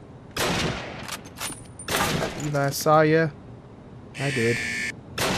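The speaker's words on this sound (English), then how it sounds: "Oh, we're taking shots from over yonder." Gunfire in the video game Call of Duty, with bursts of shots and loud impacts coming in bursts across the clip, while someone talks and reacts over the game sounds.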